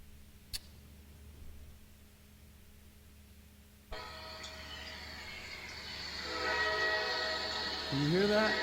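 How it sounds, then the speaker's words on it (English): A train passes with its horn sounding, starting with a faint distant rumble, then swelling as the tonal horn blasts grow louder and nearer toward the end. "That is the sound of a train."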